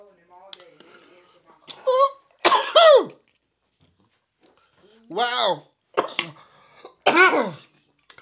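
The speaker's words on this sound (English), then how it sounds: "Sorry, guys. I'm coughing." Two harsh, close coughing fits from an adult who got a bone caught while eating oxtails and fish at a family meal, separated by quiet pauses, with a short exclamation from another person in between.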